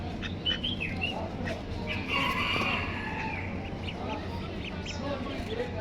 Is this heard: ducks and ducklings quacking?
yes